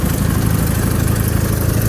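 A John Deere garden tractor with a 16 horsepower Kohler engine idles after a cold start, a loud, close, steady low chugging with a constant rattle that runs throughout without a break.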